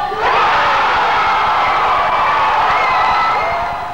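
A packed arena crowd of about 17,000 fans at a 1995 Sydney basketball exhibition roars and cheers loudly for Michael Jordan, a sustained swell of voices that fades slightly near the end.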